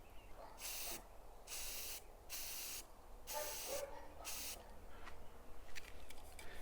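Rust-Oleum chalked paint in charcoal sprays onto a model railroad building in about five distinct hissing bursts, each lasting roughly half a second with short pauses between, close and fairly loud, with faint handling noises afterward.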